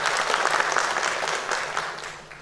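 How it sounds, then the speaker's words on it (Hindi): An auditorium audience at an award ceremony applauds steadily, with dense, close clapping held at an even level throughout and tapering slightly at the end. "हाँ तालियां"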